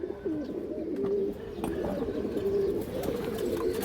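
A Giribaz high-flyer pigeon coos close by in soft, repeated low phrases, heard alone with no talk.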